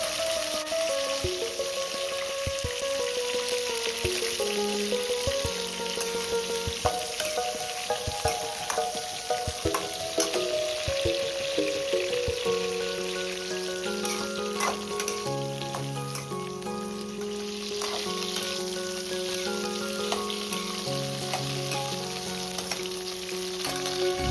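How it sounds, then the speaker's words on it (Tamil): Cut eggplant sizzles and fries in hot oil while being stirred for a Kathirikai kara kuzhambu, a steady dense crackle with scraping stir sounds throughout, no talk. "இப்போ கட் பண்ணி வச்சுருக்க கத்திரிக்காயை அந்த எண்ணெயில் போட்டு நல்லா பிரட்டி கொடுக்கணும்"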